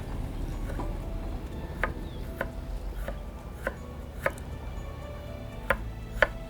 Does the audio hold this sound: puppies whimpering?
no